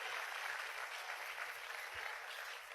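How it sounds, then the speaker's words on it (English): A church congregation claps during the offering, a faint, distant, even patter of many hands sustained for under three seconds. "Clap offering."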